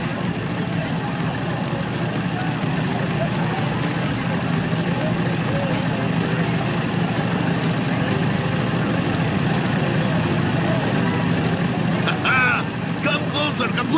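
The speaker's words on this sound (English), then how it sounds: "Hear the engine! Listen to it roar!" A steady, continuous engine rumble drones throughout, low and constant with a bit of mechanical rattle, like a motorcycle running nearby.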